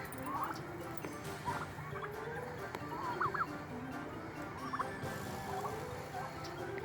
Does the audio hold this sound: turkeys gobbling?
yes